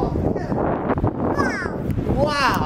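Strong outdoor wind buffets and roars across the microphone without letup, while children talk and call out over the rushing noise.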